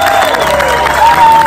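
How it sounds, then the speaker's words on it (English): Loud crowd applause and cheering for performing artists at a live music event, continuous clapping mixed with whoops and shouts. "Can we give a major applause to every single one of our artists up here?"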